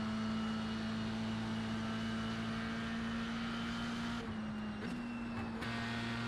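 An old F3 race car engine at Watkins Glen in a racing video game holds a steady, high-pitched whine at sustained revs, loud and continuous, with a brief dip and shift near the end as it changes gear.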